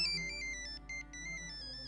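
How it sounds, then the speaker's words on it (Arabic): A mobile phone ringtone plays a bright, repeating electronic melody at steady volume, with no voices over it. "قوم رد على التليفون"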